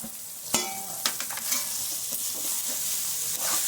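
Tomato pieces and onions frying in hot oil for a jackfruit curry, with a steady sizzle throughout and several sharp scrapes and clatters of a spoon stirring the pan.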